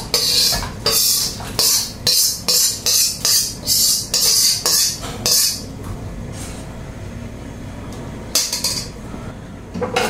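A rapid series of metallic scrapes and clanks, like a spoon knocking sautéed mung bean stew back into a metal cooking pot, then quieter rustling and one more clatter near the end.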